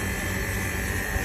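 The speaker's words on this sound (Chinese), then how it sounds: "这个氟利昂的声音一进去唰" Freon refrigerant rushes into an air conditioner being recharged after a leaking valve core was fixed, a strong, steady close-up hiss with a faint buzzing tone running through it.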